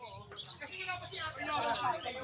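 Lovebirds chirp amid chatter at a busy Malabon pet market, bright tweets rising over steady nearby talk.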